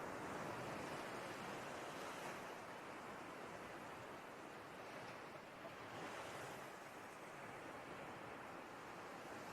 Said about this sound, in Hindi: चलना और लहरों का पैरों पर आना कितना ब्यूटीफुल खेल है।